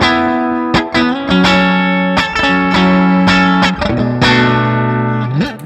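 Fender Telecaster 75th Anniversary electric guitar on the bridge pickup, played with heavy distortion: a series of loud, sustained crunchy chords struck one after another, ringing alone with a final bent note.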